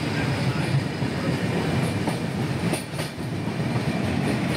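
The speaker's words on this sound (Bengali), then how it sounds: "আমাদের train Darjeeling mail new Farakka স্টেশনের দিকে ছুটতে লাগলো" The Darjeeling Mail train rumbles steadily along the tracks toward New Farakka station, a dense low roar with faint rhythmic clatter from the wheels, close and continuous.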